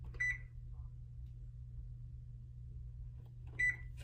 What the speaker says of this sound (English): And we're gonna set our timer